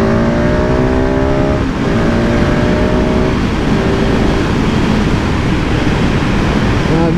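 2019 KTM 690 SMC R supermoto engine accelerating on a test ride, loud close engine roar with rising pitch through several gear changes, heavy wind rush over it throughout.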